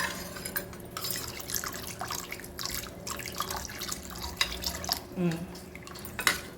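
Water splashes and pours into a pot of Chettinad rasam, with drips, small clinks of cookware and a voice speaking quietly at times.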